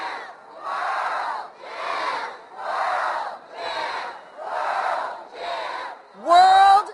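Parade crowd on the street celebrating a World Series win, chanting "world champs" in a loud, regular two-beat rhythm repeated about eight times, ending with a sharp whistle or shout.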